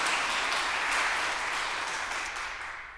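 An audience at a graduation ceremony claps in a thick, continuous wash of applause that fades gradually toward the end, with no talking over it.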